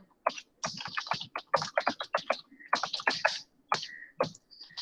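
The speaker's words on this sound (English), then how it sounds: "When you type or when you press any key on the keyboard" Keys clatter on a computer keyboard in quick irregular bursts of close, crisp clicks, with brief pauses between flurries and no talking.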